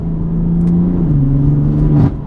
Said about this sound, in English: So on the upshift, we have now got a car that wants to pull you through the gear